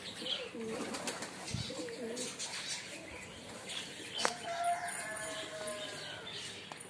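Pigeons coo in low, rolling phrases among the chirps of other small birds at Saifdipur near Patiala, Punjab, with steady outdoor background noise throughout.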